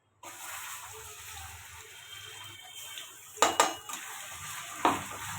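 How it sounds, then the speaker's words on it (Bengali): A paste of ginger, garlic, onion and dried chili with bay leaf fries in a pan under a soft, steady sizzle, with a few sharp metallic clinks of a spoon against the pan midway and near the end, close and without talk. "এটা ভালো করে কষিয়ে নেব মশলাটা"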